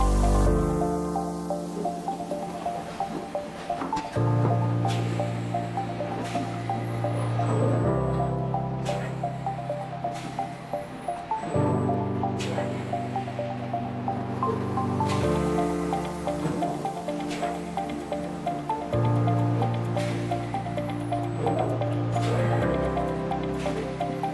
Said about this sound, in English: we start the machine. It will now begin V-grooving at the designated points, precisely moving to the target location, and then lifting the tool